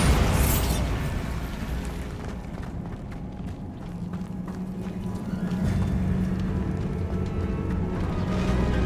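A Bombarda spell goes off in Hogwarts Legacy with a heavy explosive burst at the start that decays into a long low rumble and a steady ambient drone.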